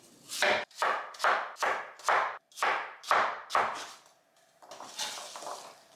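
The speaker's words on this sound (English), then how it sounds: "We're chopping up 4 apples here." Apples being chopped on a cutting board for apple butter: a steady run of about eight sharp, close knife strikes in even rhythm, then a softer rustle of the cut pieces being gathered at the end.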